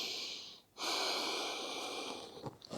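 A steady yoga breath during a relaxing pose in a total body class, a long airy exhale that runs unbroken for about two seconds after a short pause, close and fairly loud with no talk.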